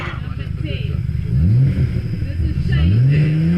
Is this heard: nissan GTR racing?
yes